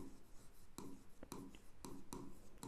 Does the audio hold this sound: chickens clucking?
no